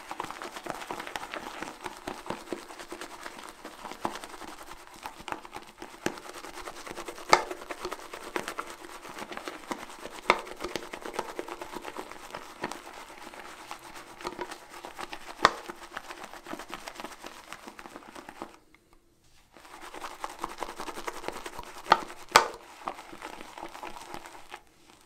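A shaving brush whips soap lather in a bowl, soft, continuous swishing and crackling close by with small taps, pausing briefly before resuming.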